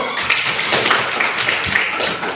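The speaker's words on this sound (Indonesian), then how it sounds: "terima kasih, tepuk tangan dulu" Audience applause in an Indonesian classroom training session, a dense steady wash of many hands clapping close and loud throughout.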